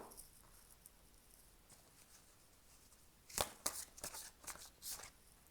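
Tarot cards are shuffled in a brief burst of crisp riffling and slapping, close and clear, after a quiet stretch with faint background hiss.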